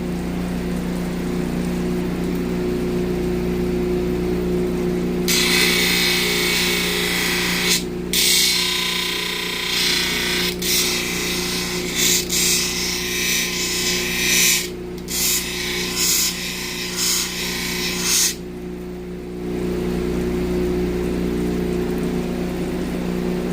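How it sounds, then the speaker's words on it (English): Gem cutting on a 600 grit wheel: a steady machine hum runs throughout while a harsh grinding rasp comes and goes in several bursts of a few seconds each, close and fairly loud, no talk. "that's the 600 grit wheel, right?"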